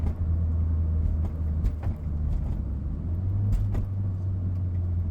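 Mini Cooper heard from inside on a bumpy city road, a steady low engine and road rumble with a few thumps and rattles from the rough surface, moderately loud and with no talking.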